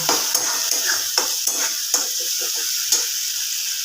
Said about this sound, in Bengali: তো মশলাটাকে একটু ভালো করে কষিয়ে নেব